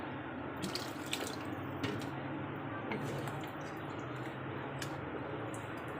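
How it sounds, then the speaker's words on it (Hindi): Water poured into beef karahi simmering in a pot, a steady close wash of splashing and trickling liquid with faint drips running the whole time, no talking over it. "हल्का सा इसमें डालते हैं पानी।"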